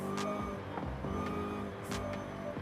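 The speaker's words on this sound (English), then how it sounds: "Listen to that supercharger." A supercharged V8 Ford Falcon GT F in Forza Horizon 5 revs and shifts, rising supercharger whine repeating in quick surges with brief drops between gear changes, loud and close.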